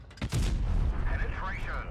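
A tank gun fires in World of Tanks Blitz, one sharp boom followed by a heavy low rumble and the ringing clank of a shell penetrating armour, with a voice talking over it.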